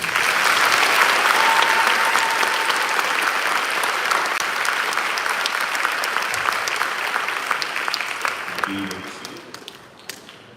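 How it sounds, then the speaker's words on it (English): A school audience at a fifth-grade promotion ceremony claps steadily and densely, the applause holding strong before gradually thinning and fading toward the end. "Round of applause for 5 years."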